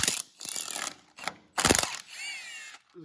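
Ratchet with a 15 mm socket loosening drive shaft bolts on a Dana 30 axle, several close bursts of rapid clicking separated by short pauses, with a faint higher whine between them.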